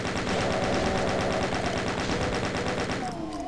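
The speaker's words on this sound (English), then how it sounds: "I love using the chain gun" Chain gun in the shooter Doom firing in a rapid, unbroken stream of loud, close shots that runs nearly the whole stretch before easing off at the end.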